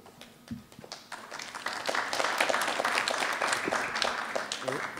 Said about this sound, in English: A round of applause for having the courage to go second.